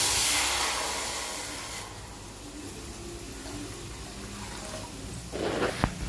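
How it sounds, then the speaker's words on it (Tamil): Water from a tumbler added to a pan of roasted rice puffs, a loud hissing sizzle at first that settles into a steady bubbling hiss, with a brief sharper burst near the end. "வறுத்த பொரியை எடுத்து வச்சுட்டு அதில் 2 டம்ளர் தண்ணி சேர்த்துப்போம்."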